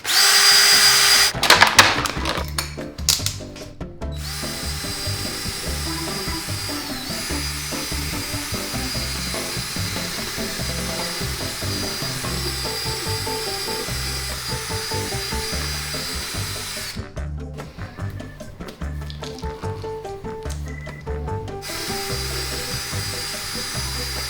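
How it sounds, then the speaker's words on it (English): A power drill fitted with a pumpkin-gutting attachment whirs steadily and loudly for a long stretch inside a pumpkin, its motor pitch holding nearly constant with slight grinding variations. "It is made to go onto a drill, so let's give it a try."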